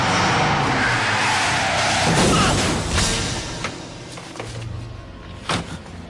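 A car speeds off with a loud engine roar and skidding tires, the noise fading into the distance, followed by a couple of sharp thumps.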